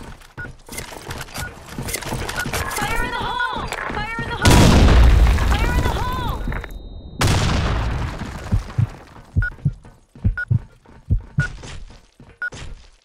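A bomb explosion in the video game Blackshot hits as a sudden loud boom midway through and is followed by a second heavy burst. Quieter game effects and electronic tones play before it, and scattered thuds follow.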